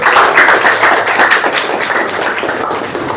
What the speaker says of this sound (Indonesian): Beri aplaus buat kita semua.